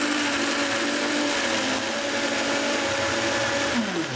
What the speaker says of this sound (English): I'm just gonna throw these straight into the blender too, along with all the liquid. And I'm just gonna whiz those up